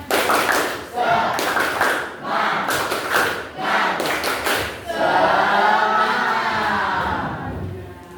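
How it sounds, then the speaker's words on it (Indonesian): Children in a classroom group clap the rhythmic Indonesian 'tepuk semangat' spirit cheer, bursts of loud claps with chanting voices, then a sustained sung or shouted phrase near the end. "sebelum pulang kita tepuk semangat lagi ya. Tepuk semangat."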